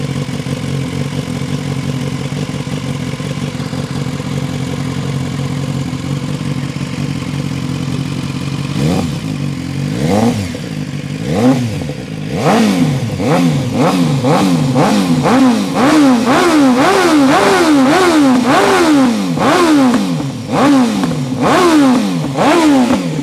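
A BMW S1000R motorcycle with a loud modified silencer idles, then revs repeatedly in sharp rising and falling bursts, close and aggressive.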